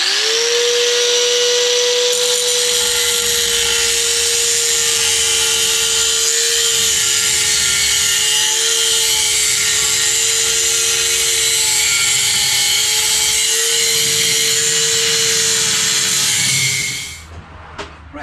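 A power tool cutting off the exhaust silencer of a Kawasaki KZ650 motorcycle, a loud steady high-pitched whine that runs continuously for most of the time, then cuts out near the end.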